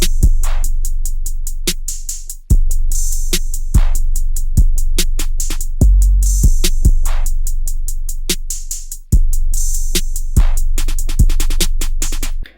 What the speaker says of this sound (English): And all drums together sound like this.